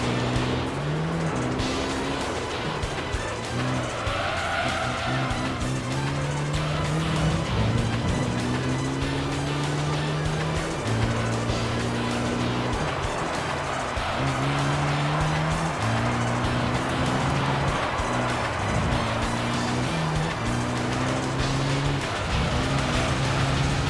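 Corvette C5 Z06 in Gran Turismo 3 with an aftermarket exhaust: a steady, loud engine drone that rises and falls through repeated gear shifts, with occasional tire squeal through corners.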